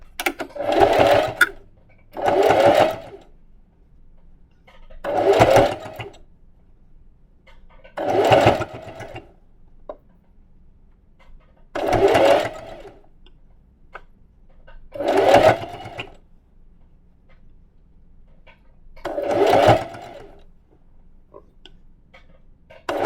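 A sewing machine stitching together the pieces of a hoodie hood, running in eight short, evenly spaced bursts with quiet pauses between each, close and clear with no voices.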